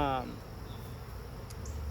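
Honey bees hum steadily around a new hive during a mid-June inspection, with a brief burst of voice at the start and a soft continuous buzz after.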